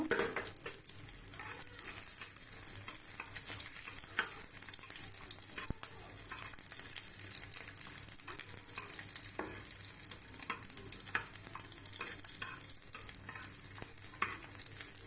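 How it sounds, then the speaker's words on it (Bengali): Continuous crackling sizzle of onion and three cloves of garlic frying in hot oil, with occasional soft clinks and stirring sounds, no voices. "তেলে সুন্দর করে পেঁয়াজ সাথে তিন কোয়া রসুন ভেজে নিব"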